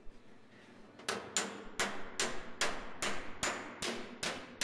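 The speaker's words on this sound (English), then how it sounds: "doing a hammer on dolly to flatten that as much as possible" Sharp metallic taps ring out in a steady rhythm, about ten evenly spaced hammer-on-dolly strikes flattening a crease in sheet metal, close by.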